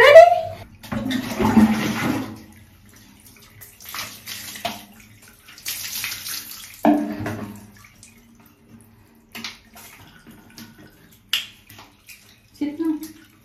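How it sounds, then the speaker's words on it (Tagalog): Bathwater splashes and sloshes in short bursts as a young child is washed in a tub, with quiet gaps between; an adult speaks to the child between the splashes. "So, liguan ko muna itong anak ko"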